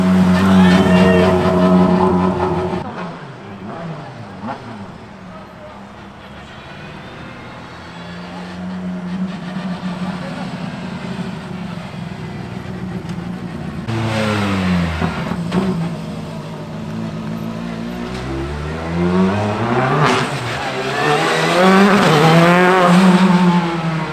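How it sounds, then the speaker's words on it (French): Cars, including a Lamborghini Huracán, pass through the Fairmont casino hairpin, engines swelling and fading under a constant roar, with brief tire squeal and revving as they brake and accelerate out of the tight bend. "il y a une sacrée ambiance ici avec les voitures qui passent"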